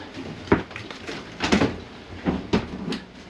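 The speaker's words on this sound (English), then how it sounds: "Let's get the door open so we can grab right here." A door on a boat is opened with several knocks and bumps, a sharp thud near the start and further clunks and scrapes over about three seconds, close by, with no speech.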